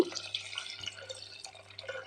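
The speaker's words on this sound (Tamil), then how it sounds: "1 டம்ளர் பருப்புக்கு 3 டம்ளர் தண்ணி ஊற்றி" Water trickles and splashes softly into a pot of toor dal, a quiet, continuous pour with small dripping sounds.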